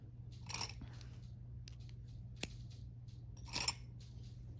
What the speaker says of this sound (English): I think I can cut the black at this point.